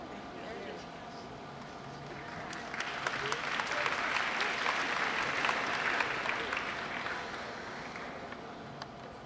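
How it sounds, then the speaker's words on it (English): Audience applause at a university honors convocation, a steady wash of clapping that swells in the middle and then fades, heard from within a large hall. "Let's all give Mr. Baggio another round of applause."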